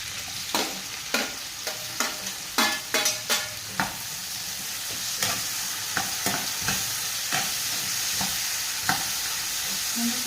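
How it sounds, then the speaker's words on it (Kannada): Chopped tomato and green chilli frying in a pan, a constant crackling sizzle punctuated by a quick run of rhythmic spatula scrapes and taps, then sparser stirring knocks. "ಒಂದು 5 ಸೆಕೆಂಡ್ಸ್ ಆಗೋಷ್ಟು ಇದು ಫ್ರೈ ಮಾಡಬೇಕು ಚೆನ್ನಾಗಿ."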